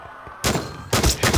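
A shotgun fires three quick, loud blasts in the zombie video game zOMGies, each with a short, booming tail.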